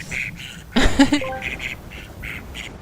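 A loud duck quack plays as a stream follower alert, a cluster of a few close nasal quacks in the middle, with other soft sounds before and after.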